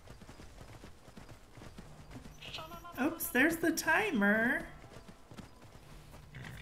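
A horse's hooves clip-clop steadily in the fantasy video game Skyrim, a soft rhythmic patter in the background while someone talks over it in the middle.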